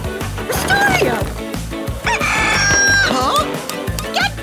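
A cartoon rooster from an animated children's rescue show crows a loud, wavering cock-a-doodle-doo, its call riding over bouncy background music and sound effects.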